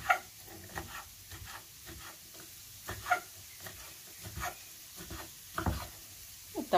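Ham frying in a pan with onion, a soft steady sizzle under light ticks and scrapes of stirring, quiet and close, with no talking.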